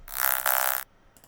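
A neuro bass synth sound from an electronic track, a dense, growling sustained note of nearly one second with a midway shift in timbre, then a short trailing blip.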